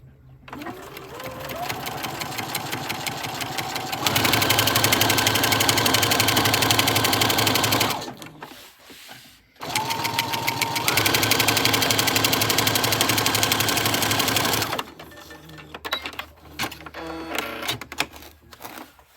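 A sewing machine stitches a vinyl pouch in two long, steady runs of loud, fast whirring that ramp up and then stop, separated by short pauses with light handling noise and some quiet talk.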